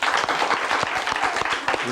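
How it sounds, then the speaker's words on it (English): Studio audience applause for a child contestant on a 1992 kids' game show, a busy wash of clapping with some sharper individual claps and voices faintly mixed in. "Let's give Zakia a big round of applause"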